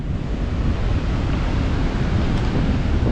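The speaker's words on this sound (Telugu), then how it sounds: "అదిగోండి గగుర్ పొరిచే మిమ్మల్ని భయపెట్టించే అలలు, రాకాసి అలలు" Rough sea waves roar where the Godavari River meets the Bay of Bengal at Antarvedi, a steady, loud wash of surf mixed with buffeting wind.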